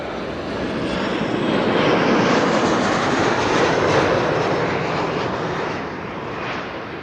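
A Boeing 737 airliner lands at Amsterdam Schiphol, a broad, steady jet roar that swells to a loud peak midway and eases slightly toward the end, with no voices.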